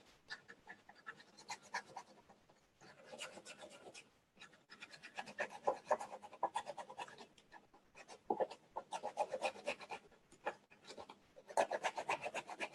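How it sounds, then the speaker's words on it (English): A stiff white bristle brush scrubs stencil paint onto wood in quick, close, scratchy bursts, grouped into several runs of rapid strokes separated by brief pauses, with no talking. "Pick up some of that paint, wipe some of it off, and I'm going to start to scrub that color on here."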